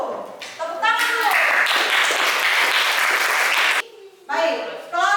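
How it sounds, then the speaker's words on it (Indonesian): Ninth-grade students in a classroom break into applause, a dense burst of clapping lasting about three seconds between stretches of a teacher's speech. "Tepuk tangan dulu."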